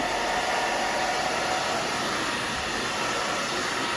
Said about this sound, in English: I'm gonna dry this part down.